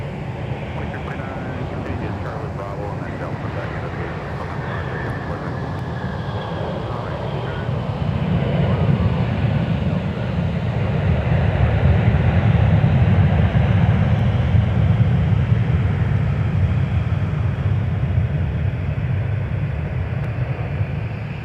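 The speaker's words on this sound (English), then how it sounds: "Now arriving on 12 right, Sun Country Airlines 754, a flight from Fort Lauderdale, Florida with a 737-800 in the delivery scheme." A Sun Country Airlines Boeing 737-800 arriving on runway 12 right roars in a steady, building engine rumble that swells and holds loud through the middle, with a voice speaking over it.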